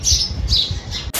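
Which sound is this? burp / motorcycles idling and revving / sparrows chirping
sparrows chirping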